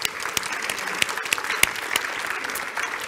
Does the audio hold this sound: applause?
yes